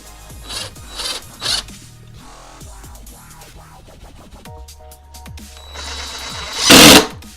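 A screw being driven into wood while building a corner material storage unit, heard as a few short rasping, grinding bursts up close, ending in a louder gritty scrape.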